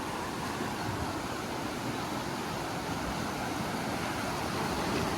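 The cold Madi river near Pokhara, Nepal, flowing in a constant broadband rush, steady and close, with no voices.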